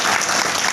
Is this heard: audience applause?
yes